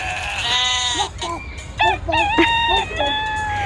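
At a petting farm, a chicken gives a close, loud run of drawn-out clucking, crow-like calls, several strained notes in a row.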